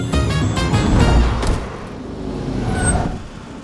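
A car pulls up and comes to a stop. The engine rumbles loudly with a brief squeal of brakes, then settles into a softer idle with a faint high whine.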